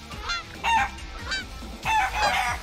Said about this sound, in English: Those were chickens, they had to be wind.